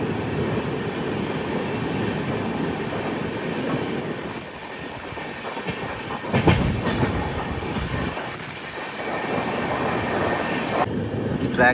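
An Indian express train, the Karnataka Sampark Kranti Express, runs on its tracks with a steady close rumble and clatter, swelling briefly midway and easing again near the end.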